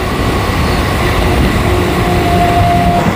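A suburban train runs steadily towards Barrackpore station after Dum Dum junction, a loud, even rumbling roar with a faint sustained whine emerging partway through.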